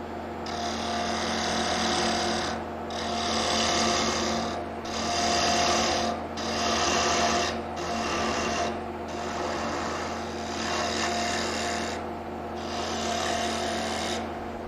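A wood lathe turns down a bottle brush lid, a steady whirring hum with the tool's scraping cut swelling and dropping in repeated passes of a second or two, close and continuous throughout.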